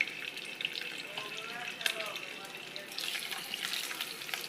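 Pieces of small rohu fish, about one kilo in size, sizzle and fry steadily in hot oil in a pan, a close, continuous crackle with occasional brief pops.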